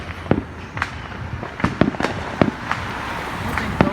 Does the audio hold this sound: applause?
no